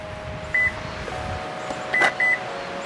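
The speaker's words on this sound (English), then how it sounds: "It's making beeps." Electronic beeps from the powered tailgate of a Lexus NX plug-in hybrid SUV: a short tone, then two more close together near the end, moderately loud over a quiet background hum.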